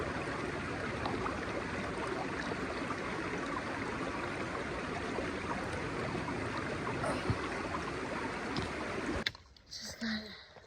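A small stream on the Appalachian Trail in Virginia flows in a constant, close rushing wash of water, then cuts off abruptly near the end into brief handling noise.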